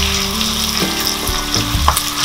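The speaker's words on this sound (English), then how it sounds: "I'm going to just shallow fry them a little bit" Diced onions and capsicum shallow frying in oil, a close, loud crackling sizzle with a few pops and light stirring scrapes.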